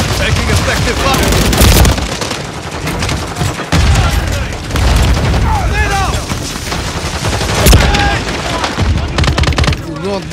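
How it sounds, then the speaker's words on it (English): Continuous gunfire and bursts from a Call of Duty Modern Warfare 3 battle, loud and dense throughout, with booms and voices shouting over the shooting. "Taking effective fire!"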